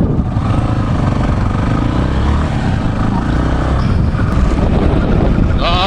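Kawasaki Ninja 400 ridden on a public road by a beginner, its engine droning steadily and close for the whole stretch, with wind and road noise mixed in.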